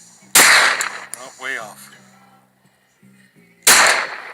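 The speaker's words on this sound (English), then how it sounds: "I might be shooting the gun right now" Two loud, sharp gunshots from a .357 Ruger revolver, the first near the start and the second near the end, each with a ringing tail, and brief talk in between.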